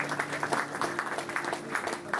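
Audience at an evening gathering gives a soft, fairly distant round of applause welcoming guest Pontus, with steady scattered clapping and some murmuring voices.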